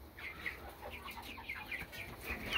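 Mixed-breed backyard chickens, including laced birds, cluck and chatter in a busy, overlapping flock nearby, a steady scatter of soft calls at moderate volume.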